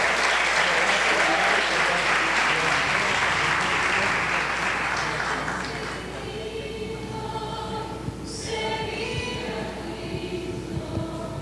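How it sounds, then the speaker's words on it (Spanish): A crowd claps at a 65th-anniversary celebration. Loud, thick applause fills the first half and then thins and fades into quieter background sounds. "Un aplauso para Keiner."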